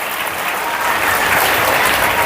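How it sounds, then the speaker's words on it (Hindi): Loud, dense applause from a congregation at a Hindi Christian church service, a continuous wash of clapping close by with no talk over it. "ताली बजाकर जोरदार"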